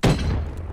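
Grenade blast in Black Ops 3, a single loud, close boom with a heavy low thump that decays quickly.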